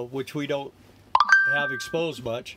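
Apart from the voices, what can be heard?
phone notification beeps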